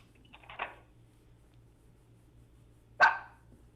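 A dog barks twice during a radio call-in, with two sharp, moderately loud barks about two and a half seconds apart over a faint background hum.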